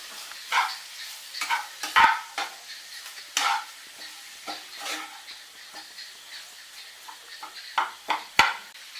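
Potato masala filling for egg masala dosa being stirred in a pan, with irregular scraping and clinking strokes of the spoon against the pan and a soft sizzle underneath, fairly close and without talk.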